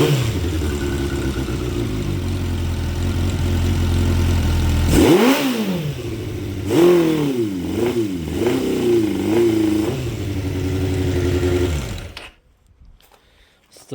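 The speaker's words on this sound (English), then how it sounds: "So now I'll fire the bike up again, take some revs." A 2006 Suzuki GSX 600F Katana motorcycle with a carburetor problem idles loudly, then is revved several times in uneven surges that rise and fall before the engine cuts off, close to the bike.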